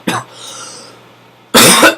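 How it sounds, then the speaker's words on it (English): Two loud, close coughs from a man, one short and one fuller, separated by a quiet pause. "Had a cough build up."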